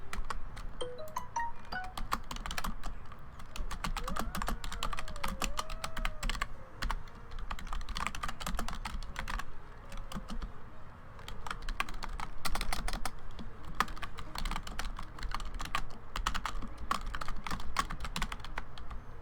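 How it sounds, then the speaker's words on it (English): Loud, rapid computer keyboard typing clatters close up in bursts of sharp keystrokes, with brief pauses, running continuously without talk. "Yes, I know the keyboard's loud."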